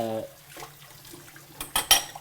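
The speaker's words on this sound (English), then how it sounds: "Now you might be wondering what that noise is you're hearing when I set them down. That's the drying rack," Dishes are set down in a kitchen drying rack with a couple of sharp clinks and rattles near the end, preceded by faint dull knocks and a brief hum.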